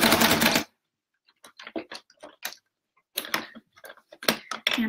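A sewing machine stitching oven mitts runs in a loud burst, then falls silent before a series of quick, uneven clicking and ticking bursts as the work is handled.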